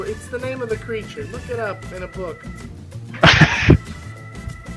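A sharp, loud sneeze bursts out abruptly after a man's spoken lines, a brief noisy blast followed by a quieter tail as other voices carry on nearby.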